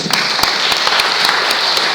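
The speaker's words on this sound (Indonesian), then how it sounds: "Tepuk tangan bagi Tuhan." Steady, dense applause from a large church congregation, loud and sustained throughout with a few sharper claps standing out.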